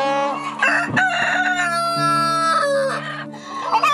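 Farm chickens kept by a Korean couple crow loudly in a long, sustained rooster call, with harmonic crowing layered over the birds clucking close by. No one speaks.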